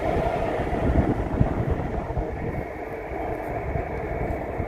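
An REM light metro test train rolls along its custom track with a low, steady rumble and faint rattle, fairly quiet and distant, easing slightly toward the end.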